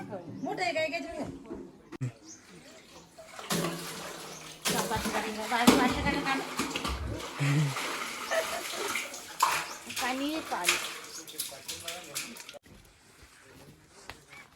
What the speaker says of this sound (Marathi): आता आम्ही अर्धी टाकी भरलेली आहे